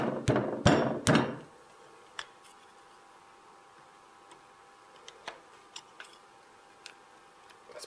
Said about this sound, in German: Ich nehme jetzt ein Stecheisen, gut geschärft, lege mir ein Stück Holz unter